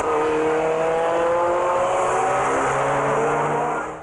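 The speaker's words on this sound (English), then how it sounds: "roaring up from behind comes the lunatic. Just the sound of the car." A car roars up fast from behind on a road, its loud engine drone steady and close throughout with a slight fade at the end, no voices.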